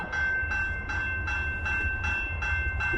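A CP freight train rolls through a level crossing, a steady low rumble with rhythmic wheel beats about every half second and a sustained crossing bell tone running throughout, loud and close.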